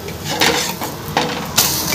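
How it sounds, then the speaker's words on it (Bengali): Egg paratha being lifted off a frying pan, giving a few sharp metallic clinks and scrapes of a spatula against the pan, close and fairly loud, with a faint sizzle underneath. "এই পর্যায়ে এবার আমি এই পরোটাটা নামিয়ে নিচ্ছি।"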